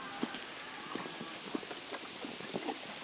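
Several horses move close by, hooves clip-clopping in an irregular rhythm of sharp knocks and shuffles over a low background hiss, with no talking.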